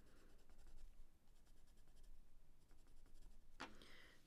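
Caran d'Ache Supracolor watercolour pencil colouring on paper, a steady close scratchy scribbling that runs throughout, with a brief sharper stroke near the end.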